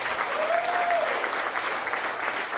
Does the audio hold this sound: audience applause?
yes